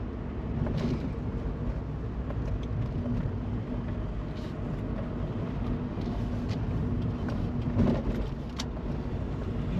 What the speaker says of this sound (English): Look at the traffic round here.